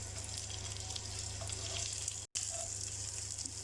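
Chicken shallow frying in cooking oil over high heat, a steady, dense crackling sizzle that holds evenly throughout with only a momentary break, no voices present.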